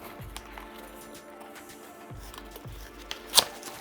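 Unboxing a Dell KB216 wired keyboard box, with quiet cardboard rustles, scrapes and small handling taps, ending in a sharp tearing or ripping crackle; soft and close, with no speech.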